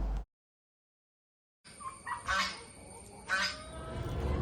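Loud honking calls from several turkeys come in bursts after a short silence, close by, over a steady rustling background.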